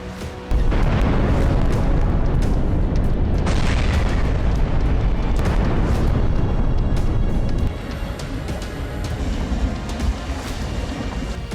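Heavy, rumbling booms from guided bomb explosions in a war zone, a loud sustained roar with deep low-end blasts that eases into a quieter rumbling tail.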